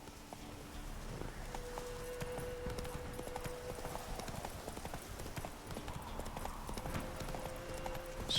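Roach, the horse in The Witcher 3: Wild Hunt, clops along at a steady walking pace, hooves ticking rhythmically and faintly under soft game ambience and music tones.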